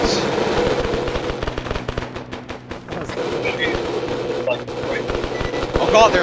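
Video game gunfire in a dense, continuous crackle of rapid automatic shots and distant pops, heard under and between excited voices.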